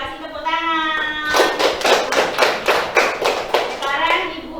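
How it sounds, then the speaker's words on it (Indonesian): Children applaud together in a classroom, about a dozen quick, bright claps in a steady rhythm, preceded by a brief tonal voice. "Kasih tepuk tangan."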